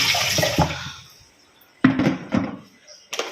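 Drinking water is poured into a container in a home kitchen at night, heard as a few short splashing bursts separated by quiet gaps, with light knocks.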